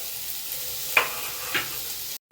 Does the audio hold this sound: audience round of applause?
no